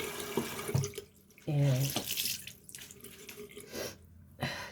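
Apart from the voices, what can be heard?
water running to rinse off a charcoal face mask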